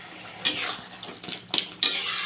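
Boiled snails and potatoes being stirred in a pot, metal spoon clinks and scrapes against the pot in several distinct bursts over a low background.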